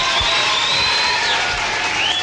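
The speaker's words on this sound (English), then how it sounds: "Nice round of applause" A community association audience gives a short round of applause, steady dense clapping heard up close for a couple of seconds.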